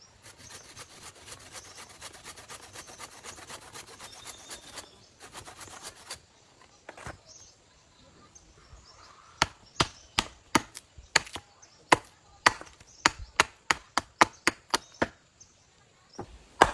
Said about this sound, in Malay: mudah aja kayunya dipotong dengan gergaji